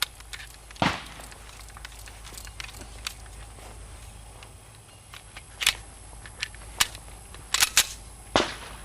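Suppressed gunshots from a firearm fitted with a Silencerco Osprey silencer at an outdoor range day: about six sharp, muffled cracks, one early and the rest clustered near the end, over a steady background hiss.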